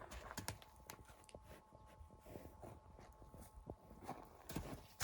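Horses' hooves clip-clop in a steady, uneven walking rhythm at moderate distance, a series of sharp knocks repeating alone over a low background hum, with no talking.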